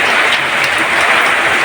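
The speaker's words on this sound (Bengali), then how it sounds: "আর বাইরে যে বৃষ্টি হচ্ছে কি বলবো," Heavy rain pours down outside in a dense, loud, unbroken hiss of drops.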